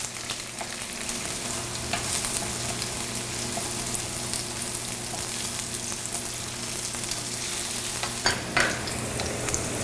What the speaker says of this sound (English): you don't have to fry it too long, just so it gets a nice little char on each side.